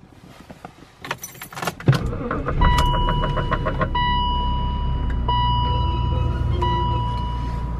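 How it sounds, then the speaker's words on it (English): A BMW E39 or E53 engine cranks and starts after a jingle of keys, then settles into a steady idle with a warning chime beeping repeatedly, close and fairly loud. "I'll start the car"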